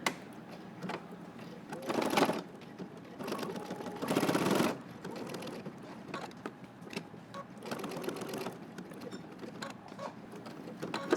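A sewing machine runs a small 2.0 stitch along jacket fabric for a Simplicity pattern, whirring in short bursts that stop and restart at pivots, with quieter mechanical clicks between runs.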